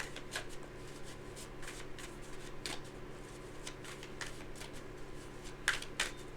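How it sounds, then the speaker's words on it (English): A tarot card deck is shuffled up close in a quiet room, with a rapid series of soft papery riffles and flicks, steady at first and ending in a couple of louder snaps. "I'm shuffling."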